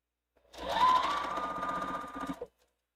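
A sewing machine stitches across nested quilt seams on a wall quilt, running in one steady close motor-and-needle burst of about two seconds with no talk.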